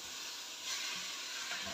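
Food starting to cook in a pan, a steady hiss and soft sizzle held at an even, moderate level with no talking.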